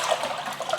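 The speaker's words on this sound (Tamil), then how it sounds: "அதுக்கு வந்து தண்ணி ஊற்றிடலாம்." Water splashing and gurgling as it pours into a cooking pot being filled for boiling basmati rice; a brief, close, continuous trickling wash.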